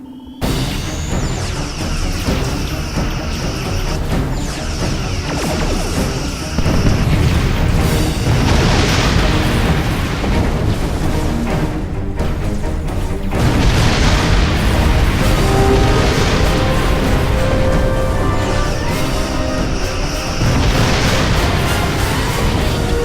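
Starship combat in the Star Trek Online game, with repeated booming explosions and weapon bursts over a continuous dense roar, loud and close throughout with no talk.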